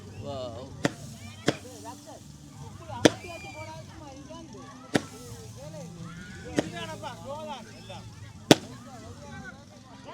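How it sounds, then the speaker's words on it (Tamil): Firecrackers go off at a church chariot festival procession, six sharp isolated bangs spaced irregularly over a busy outdoor crowd with voices talking throughout. "தொடர்ந்து இந்த இடத்துல வெடிகொளுத்தி கொண்டு இருக்கிறேன்"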